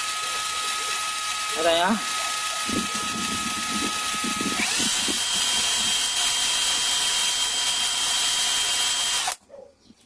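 An impact wrench is run to test a car's crankshaft position sensor, giving a loud continuous buzzing, rattling whir that holds steady for about nine seconds before cutting off abruptly, with someone speaking briefly over it.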